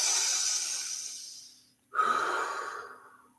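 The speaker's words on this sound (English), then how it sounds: "When you're doing those breaths, make noise." Audible breaths out through the mouth during a mindful breathing exercise, a long airy exhale fading away, then a sharp, loud, rushing breath, close and with no talk.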